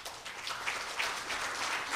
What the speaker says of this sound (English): Please welcome President Bak with a big applause.